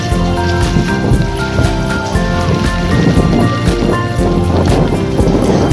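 Heavy rain from Cyclone Remal pours down loudly and close, a dense drumming on surfaces with gusts of wind and what sounds like a low tonal hum running underneath throughout.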